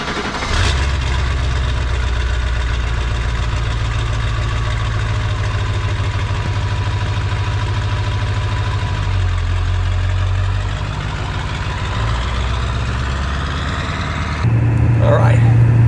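A 1996 Ford F250 Super Duty truck engine running on a drive, heard as a loud, steady low drone from inside the cab with slight shifts in pitch and a brief rise in rumble near the end.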